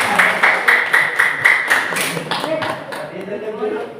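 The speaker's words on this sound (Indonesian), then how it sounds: "Tepuk tangan." Classroom applause breaks out in a series of sharp, rhythmic claps from a group of students, loud and close at first, then thinning into scattered clapping over a few seconds.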